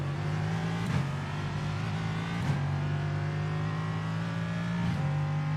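A race car engine in the iRacing sim drones at a steady high pitch, loud and close, with only slight shifts in revs and no talk.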